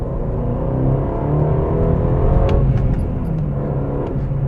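Aston Martin DB12 twin-turbo V8 accelerating hard from inside the cabin, a steady loud low rumble that builds in intensity over several seconds with a continuous strained engine drone.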